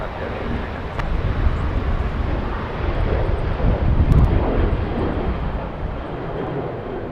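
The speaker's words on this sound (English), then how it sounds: "Southwest Airlines getting a move on Southwest flight to San Francisco." A Southwest Airlines jet taking off for San Francisco at Los Angeles International Airport sends a broad, steady engine roar from a distance, swelling slightly midway, with wind buffeting the microphone.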